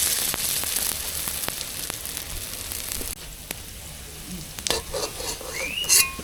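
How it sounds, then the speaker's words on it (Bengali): A final batch of sweet pumpkin and small shrimp pakoras fries in hot oil, a steady sizzle with sporadic ticks and clinks of utensils close by, and no talking. "আমাদের মিষ্টি কুমড়োর পাকোড়া এই লাস্ট বারের মতন দেওয়া হচ্ছে, লাস্ট ব্যাচ"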